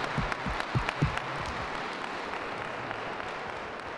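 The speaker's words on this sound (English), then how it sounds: "Give them a round of applause." Applause from a crowd honoring students at a STEM Week kick-off event, a dense continuous wash of clapping with a few louder individual claps near the start, heard alone throughout.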